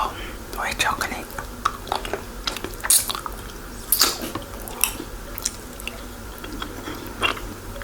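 Lindt white chocolate eaten close to the mic, with soft bites and wet chewing under occasional whispering.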